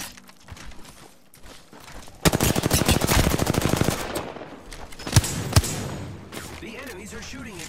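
Automatic gunfire from Apex Legends comes in a dense, loud burst of rapid shots lasting a couple of seconds, then two sharp single shots, with game voice lines heard around it.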